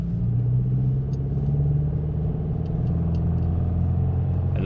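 A Subaru WRX with a manual gearbox creeps forward in first gear on the clutch alone, its engine giving a low, steady hum and rumble close by with no revving and no talk.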